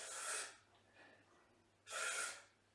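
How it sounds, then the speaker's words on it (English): Two sharp, close breaths drawn in through the mouth during a tip on robot-style dance posture, separated by a short quiet pause. "Now, watch what happens if I breathe in."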